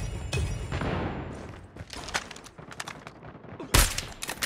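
Dense, continuous gunfire from the video game Call of Duty Mobile, with rapid overlapping shots and a louder close burst near the end, heard alone with no talk.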